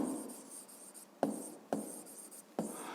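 Pen writing on paper during a Ukrainian seventh-grade physics lesson: soft continuous scratching strokes with a few sharper taps as the pen lands, close and quiet, no talking.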